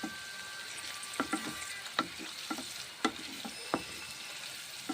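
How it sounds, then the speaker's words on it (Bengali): Spices, beans and white sesame are stirred in a frying pan, with a low sizzle throughout and sharp spoon scrapes and taps at irregular intervals, close and moderately loud. "1 মিনিট নেড়ে চেড়ে নিচ্ছি, এইভাবে রান্না করে নিচ্ছি।"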